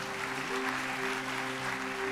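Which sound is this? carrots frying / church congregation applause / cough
church congregation applause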